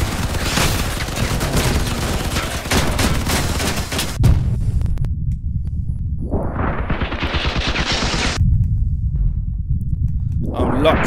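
MM5 Vector machine gun in the vehicle combat game Crossout, firing a dense, rapid burst of shots with booming impacts and engine roar, then sweeping rising whines, with a voice talking over it.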